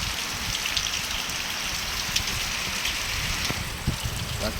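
Steady rain falls on sandy ground at night, a constant dense patter with a few louder individual drops standing out near the microphone.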